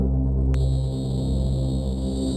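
Low End Strings instrument with dirt distortion engaged plays a sustained, buzzing low string chord, with a bright gritty edge added partway through; steady and loud, no talking.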